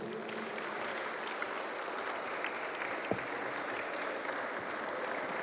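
Steady applause from an audience at a Ghanaian education event, a dense continuous wash of clapping held at an even level throughout with no voices breaking through.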